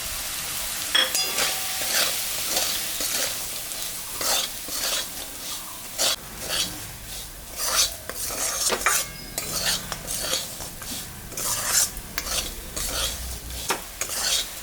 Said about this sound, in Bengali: সুজিটা ভাজা ভাজা হয়ে গেছে